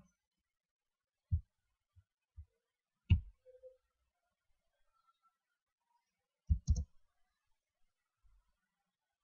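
Sparse mouse clicks in Visual Studio sound as single soft taps, a few isolated and one quick cluster of two or three, against near silence.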